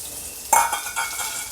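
Ginger and onions sizzle steadily in a hot pan for an Afghani egg korma, with a close scrape and clink of a stirring spoon and a few softer scrapes after it.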